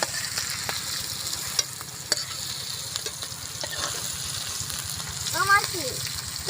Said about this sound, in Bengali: বিনসটা আমার ভাজা হয়ে গেছে, হালকা করে ভেজে নিয়েছি